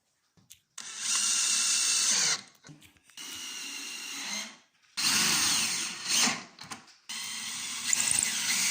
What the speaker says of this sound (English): we pre-drill our holes